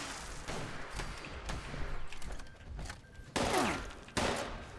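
Gunfire rattles in Fallout 76, with several volleys of sharp shots and two loud, close bursts near the end.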